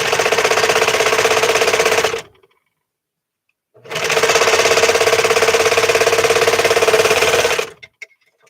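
A serger stitches fabric at close range in two sustained whirring runs, one about two seconds and a longer one about four seconds, separated by a short silent pause. The loud, steady mechanical hum stands alone with no talking.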